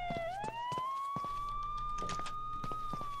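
A police siren in the video game Sneak Thief wails with a steady rising tone, while game thumps and clatters sound beneath it.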